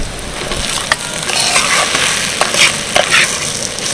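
Mashed boiled potato stuffing is stirred and fried in a pan, making a steady, loud sizzle with a spatula scraping and clinking against the metal throughout.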